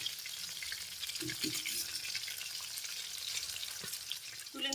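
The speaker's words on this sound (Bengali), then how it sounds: "এপাশ ওপাশ করে একটু হালকা করে ভেজে নেব" Food fries lightly in a kadai, being turned side to side, a faint soft sizzle with a few quiet knocks and scrapes of a utensil.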